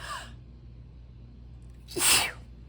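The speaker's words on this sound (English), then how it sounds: "I have to sneeze." One loud, close sneeze in a math classroom, cutting in after a moment of near quiet and trailing off quickly.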